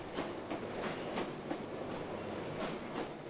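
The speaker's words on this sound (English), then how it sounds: "This southbound Bakerloo stops to pick up passengers at the normally unused Metropolitan line platform" A southbound London Underground Bakerloo line train at a platform gives a steady rumble with repeated clickety-clack wheel beats at a moderate distance, and no voices are heard.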